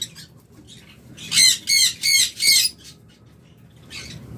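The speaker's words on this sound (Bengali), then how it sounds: "আমাদের কাছে হিউজ পরিমাণ লাভবার্ট রয়েছে" Lovebirds in a bird shop give four loud, harsh squawks in quick succession, followed by fainter chirps against a low background murmur.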